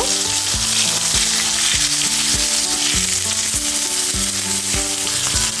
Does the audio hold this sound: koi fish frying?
yes